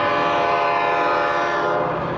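A train on railroad tracks blows its horn in one loud, sustained, steady blast lasting the whole moment, close by, over a low rumbling rail noise, with no voices.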